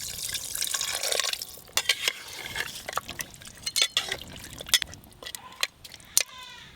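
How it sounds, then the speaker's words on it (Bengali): Water is poured into a pressure cooker holding spiced mutton, a continuous liquid splashing and trickling broken by sharper clanks and drips, with a voice talking over it. "এবার আমি এর মধ্যে পরিমাণ মতো জল দেব।"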